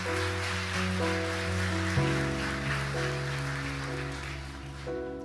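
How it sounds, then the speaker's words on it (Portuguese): A church congregation applauds in a sustained wash of clapping like steady rain, heard under sustained organ or keyboard chords, fairly even in loudness and fading slightly toward the end. "Pode aplaudir o Senhor Jesus."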